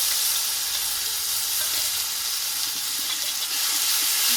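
Nigella seeds, turmeric powder, green chilli and mustard paste frying in hot oil for an eggplant and hilsa dish, a loud steady hissing sizzle close by with faint stirring, no voices.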